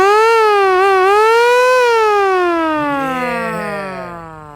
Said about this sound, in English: Yeah, this is my siren.